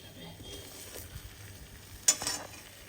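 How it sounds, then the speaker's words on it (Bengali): Oil heats in a cooking pan and starts to sizzle faintly, with soft scraping and a couple of brief louder crackles near the end, all fairly quiet with no talk. "একটু তেল দিয়ে দিলাম তেলটা গরম হোক"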